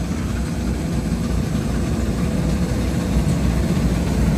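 A New Holland tractor engine runs steadily nearby with a deep, rumbling drone that stays loud and even throughout, with no voices.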